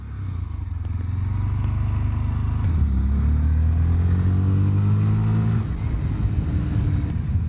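A Honda Grom MSX125 motorcycle rides in slow circles, its engine note droning steadily nearby and shifting pitch as it leans and turns, with some clatter and no talking.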